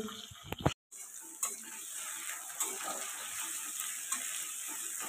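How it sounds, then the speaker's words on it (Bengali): Sliced onions and green chillies frying in a pan for a gourd, potato and katla fish curry, a steady soft sizzle with occasional clicks and a brief dropout near the start. "পেঁয়াজ আর কাঁচা লঙ্কা দিয়ে এবার আমাকে একটু ভাজা করে নিতে হবে।"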